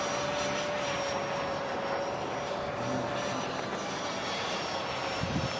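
A Bat Wing radio-controlled jet flies overhead, its engine a steady high-pitched whine with a sustained tonal hum, holding even loudness at a moderate distance throughout.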